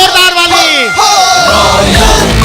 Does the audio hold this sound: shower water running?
no